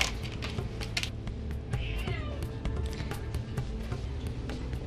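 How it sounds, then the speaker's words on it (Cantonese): A pet cat meows repeatedly in a quiet indoor space, short clear calls recurring over a soft, low background hum. "就係呢隻貓啦。"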